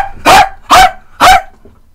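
A person imitates a dog by barking three times, loud and close, in quick evenly spaced yelps with a faint low murmur between them.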